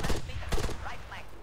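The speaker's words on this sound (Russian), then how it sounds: "Иди на выстрел, Ферин." Bursts of rifle fire in an Arma 3 urban firefight, several sharp shots in quick succession, close and loud, with radio-style team chatter nearby.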